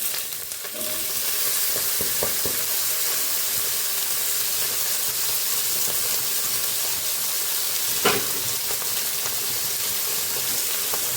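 Cauliflower, diced potato and green chilies fry in oil in a pan, a steady, dense sizzle that stays fairly even from start to finish, with a few faint clicks of stirring.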